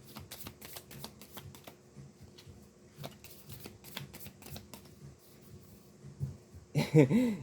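Tarot cards are shuffled up close in quick, papery riffles and flutters, ending with a louder rustle.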